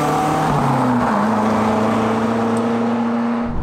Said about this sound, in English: it's time to put some serious miles on this car and close the gap to the Hethel Lotus factory